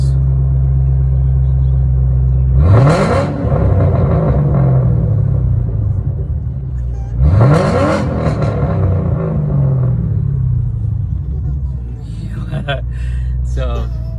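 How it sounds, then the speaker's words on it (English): A Mustang engine with an X-pipe exhaust and catalytic converters idles, then revs sharply twice, each rev rising in pitch and settling back down to a rumbling idle. "Just give it a few revs."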